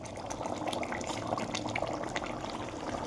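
Water with jackfruit curry bubbling as it boils in a pot, a steady soft burbling and gentle splashing heard up close, with no talk.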